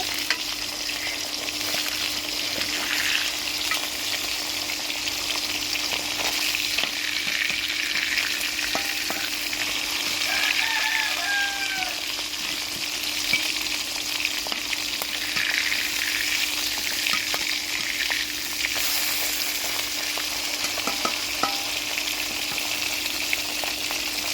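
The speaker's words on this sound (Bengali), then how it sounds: "আমি কালকে পান্তা ভাতের সাথে পেঁয়াজ মরিচ দিয়ে খাবো বলে আমি ইলিশ মাছ ভাজছি।" Hilsa fish fries in a pan, giving a continuous bright sizzle with occasional light pops and stirring clinks, steady and moderately loud throughout, with no talking.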